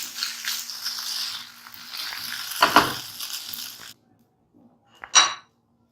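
Pasta frying with vegetables in a pan, a close sizzle and scraping clatter with a sharp metallic knock midway, then quiet and a short final scrape.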